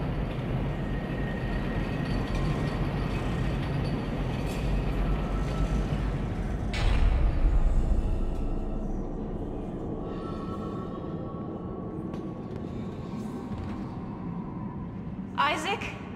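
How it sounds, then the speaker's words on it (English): A tram ride in the sci-fi horror game Dead Space (2008): a steady, low mechanical rumble rolls throughout, swelling into a heavier surge midway and then settling, with a brief sharp hiss near the end. "Boarding this tram, we're nearly at the distress beacon."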